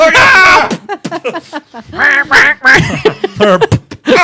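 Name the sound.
person imitating a duck with a duck call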